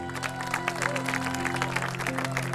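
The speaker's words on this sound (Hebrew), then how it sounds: "בואו ונקבל אותה במחיאות כפיים סוערות" Wedding guests applauding the bride at a chuppah ceremony, a dense, steady wash of many hands clapping that holds for the whole stretch, with music tones sustained underneath.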